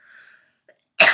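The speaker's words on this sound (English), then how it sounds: "Begin cough." A single sharp cough bursts out near the end, loud and close, after a soft breathy exhale and a small click.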